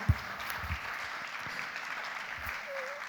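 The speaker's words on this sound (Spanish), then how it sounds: "Denle un aplauso al Señor" Applause from a church congregation during a sermon, a steady, moderate wash of clapping that carries on evenly throughout.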